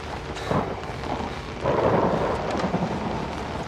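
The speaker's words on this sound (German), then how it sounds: "Oh, ich hasse diesen Blitz." Thunderstorm with lightning in the Outlast video game: rolling thunder rumbles with a steady rain wash, swelling in a loud surge midway, with no voices.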